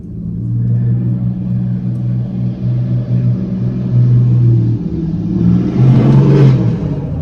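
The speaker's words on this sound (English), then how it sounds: "And there goes a very loud car." A loud car with no muffler growls nearby, swelling to a roar as it passes close by, then easing off slightly.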